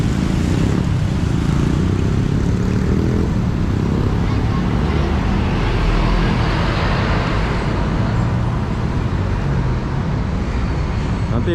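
Busy street traffic in Kuala Lumpur's Bukit Bintang area, with motorcycles among cars and buses, makes a steady, dense roar of engines throughout. Voices murmur faintly in the background.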